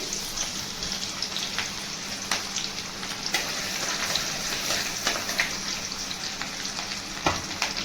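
Chopped garlic, onion and chili frying in oil for chowmein, a constant crackling sizzle with scattered sharp pops and occasional stirring taps, close and steady.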